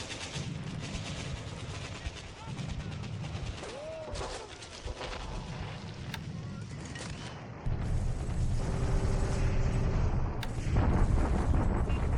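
Naval and artillery bombardment in the wargame War in the Pacific – Admiral Edition, a steady roll of low booming rumble and crackle, swelling louder near the end, with one brief high tone sweep midway.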